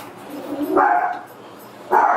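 A dog barks twice, close and loud, sharp yaps about a second apart, over a quiet background.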